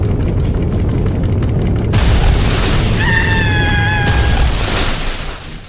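A loud, sustained roaring rumble like an explosion's aftermath, with a brighter burst partway through and a brief high whistling tone before it fades.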